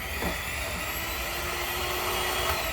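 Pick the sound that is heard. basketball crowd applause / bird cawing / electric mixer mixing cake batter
electric mixer mixing cake batter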